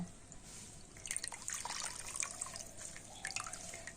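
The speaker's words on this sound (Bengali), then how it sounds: "আর এবার আমি ছানাটাকে খুব ভালো করে একটুখানি এবার জল ঝরিয়ে নেব" Water drips and trickles as freshly made chhena, a soft cheese curd, is squeezed by hand in a home kitchen; faint, steady splashing with a few brighter spatters and no speech.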